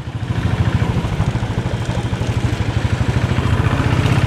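Royal Enfield Bullet 500 motorcycle engine pulling forward, a close, steady low thump of single-cylinder firing pulses that grows slightly louder toward the end, with no talk over it.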